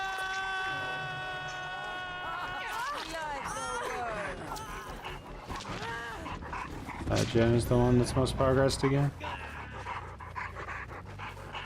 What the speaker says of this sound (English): Dude, this dog needs to like chill a little bit.